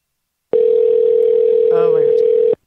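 Telephone ringback tone on an outgoing call, heard as one steady continuous tone lasting about two seconds, loud and close, with a brief voice murmuring underneath partway through.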